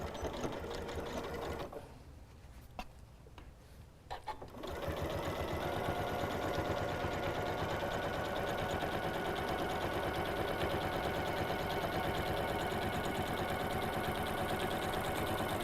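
Sewing machine stitching a quilted scrappy potholder with a quarter-inch seam, a steady continuous mechanical whir with a brief quieter pause near the start, then running loud and even to the end.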